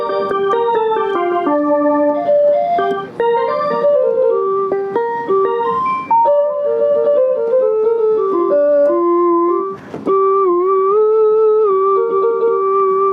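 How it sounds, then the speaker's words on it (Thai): An electronic keyboard, a Pastel Siamkey1, played on its Thai fiddle (saw) voice number 130: a solo melody of sustained, bowed-sounding notes with slides between pitches, loud and close, with no talking. "นี้เสียงซอนะครับร้อยสามศูนย์นะครับ ไทยฟิดเดิลนะครับ"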